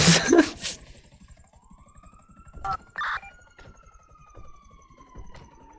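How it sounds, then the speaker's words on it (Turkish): Police car sirens from the video game GTA 5 wail in the distance with a steady rising and falling tone, while faint voices and other low background sounds of the game play underneath. "Sirenleri kapatalım."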